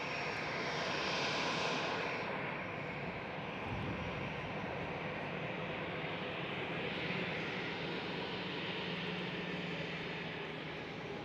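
An Air Europe airliner at Schiphol heading for runway 18 Left gives a steady, broad roar of jet engines, distant but sustained, with no voices.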